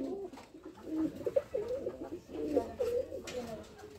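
Caged pigeons, some sitting on eggs, coo in low rolling phrases that rise and fall, several birds overlapping close by at moderate loudness.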